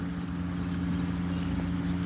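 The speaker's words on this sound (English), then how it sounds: "Man, I can't get away from this trash truck." Garbage truck engine idling nearby, a steady low rumble with a constant hum, unbroken and fairly loud throughout with no talk.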